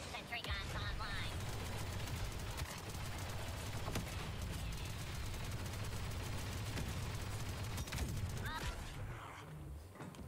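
Sentry guns firing in Star Wars Battlefront 2, a steady rattle of automatic gunfire under continuous battle noise, with a voice talking over parts of it.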